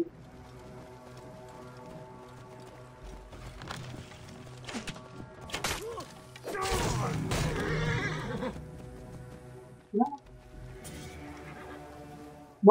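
A horse in a video game, Assassin's Creed Origins, whinnies loudly in a long drawn-out neigh partway through, with a few softer snorts and thuds around it against quiet background music.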